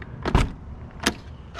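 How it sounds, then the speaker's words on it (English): Door locks on a C4 Corvette actuate as the owner approaches: two quick mechanical clunks close together, then a third a moment later, in a quiet setting. "So when I approach, it unlocks"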